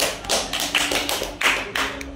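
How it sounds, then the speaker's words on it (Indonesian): A group of students claps for a classmate during a school group-guidance discussion session, several short uneven bursts of clapping and tapping at close range with no talk over them. "Tepuk tangan buat temennya."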